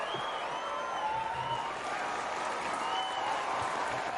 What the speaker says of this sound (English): That's why they're clapping and supporting it.